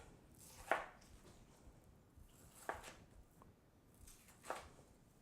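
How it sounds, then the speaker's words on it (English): A knife slicing through a log of mashed black bean burger mixture on a cutting board, making three soft, separate cuts spaced about two seconds apart, close and fairly quiet with no talking. "from this, you're going to slice 4 even-sized burgers"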